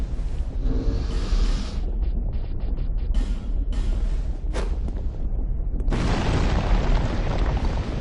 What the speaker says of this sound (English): did you know you could blow up those little fire things there?